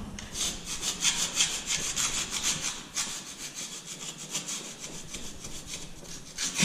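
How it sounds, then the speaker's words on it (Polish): Quartz primer coating being scraped off a surface: a steady run of rough, rhythmic rasping strokes, close and continuous, with no talking. "spróbować ten grunt kwarcowy zeskrobać i pod spodem jest grunt wodny"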